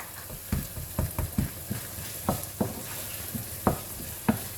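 Chopped okra for a Ghanaian soup cooks in a pot on the hob, giving a low bubbling simmer broken by several distinct clacks and scrapes of stirring at uneven intervals, fairly close and moderately quiet, with no talking.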